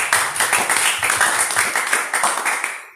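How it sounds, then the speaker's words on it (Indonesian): Applause in a church congregation, a brisk burst of many hands clapping close and loud for about three seconds before cutting off. "Beri tepuk tangan bagi Tuhan."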